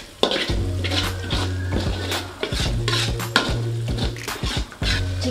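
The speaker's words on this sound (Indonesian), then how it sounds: "Kita aduk kembali." Tuna balado spice paste with palm sugar stirred in a pan, a spatula scraping and clanking against metal in quick irregular strokes over a soft sizzle, close up.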